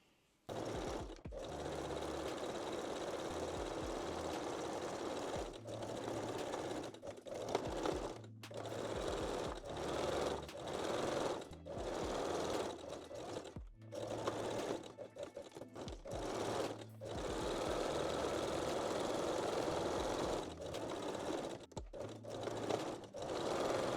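A sewing machine stitches a bikini top seam in a quiet room, running in several bursts of rapid, even mechanical whirring broken by short pauses, close and clear with no talking.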